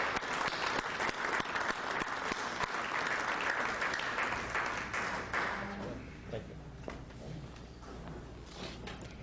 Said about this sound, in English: could we have a warm round of applause for Bill Thornton, please?